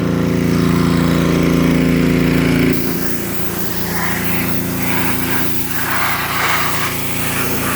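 A pressure washer sprays down a Gravely ZTX-52 zero-turn mower. A loud, steady engine-driven hiss and drone runs for about three seconds, then the pitch of the spray shifts to a rougher, fluctuating wash against the deck.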